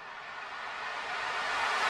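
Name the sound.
riser made from reverb tail of a clap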